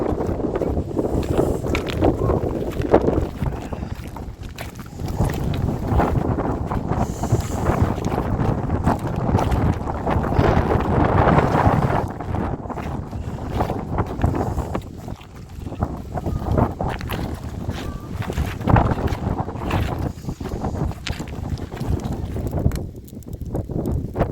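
Strong, cold wind roars steadily across an outdoor microphone near water, gusting and buffeting throughout without letup. Scattered rustling and faint knocks sound beneath it.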